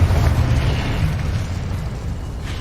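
A Confringo spell exploding in the Hogwarts Legacy video game: a loud, deep booming blast right at the start that rumbles and slowly decays over a couple of seconds, heard alone.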